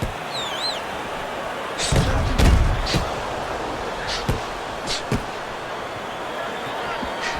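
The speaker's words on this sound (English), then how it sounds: "Well-placed counterpunch by Peters" Punches land in a boxing video game title fight, a series of sharp thuds and slaps spread irregularly across the clip, with a commentator's voice talking over them and a crowd murmuring behind.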